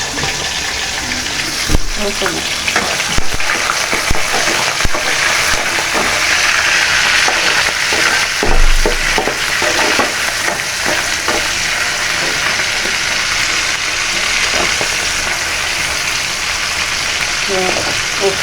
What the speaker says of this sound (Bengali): আগে একটু তেলে চিংড়ি মাছটা তেল ভেজে গরম হয়ে গেছে